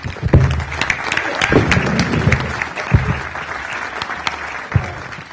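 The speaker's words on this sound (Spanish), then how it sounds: "también me gustaría que le demos un aplauso a João Carlos." Applause from an audience at a panel event, a steady wash of many hands clapping that fills the whole stretch at a moderately loud level, with no voices over it.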